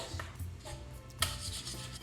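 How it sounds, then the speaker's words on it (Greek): Béchamel sauce with milk being whisked continuously in a pot, a steady soft scraping and light metallic clinking with one sharper clank, quiet and without talk. "Ανακατεύω συνεχώς για να πήξει λιγάκι η μπεσαμέλ μου"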